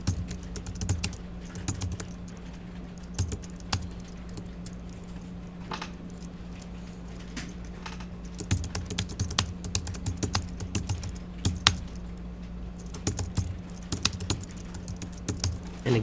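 Steady typing on a computer keyboard, a run of close, quick key clicks with brief pauses and occasional heavier strokes like an enter key, under a low constant hum, no voices.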